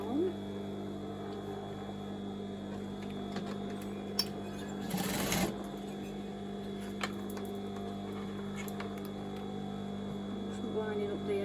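Sewing machine stitching fabric while remaking a pair of shorts, a steady close mechanical hum that runs throughout with a brief louder burst midway, under quiet talk.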